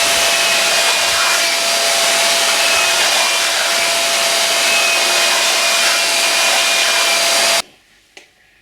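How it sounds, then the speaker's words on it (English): Epoxy surface on a catamaran hull being sanded, a loud, steady, close abrasive whir with constant hiss that runs unbroken for most of the time, then cuts off abruptly, leaving near silence and one small knock. "I need to sand off the surface a bit so I get a good contact with the"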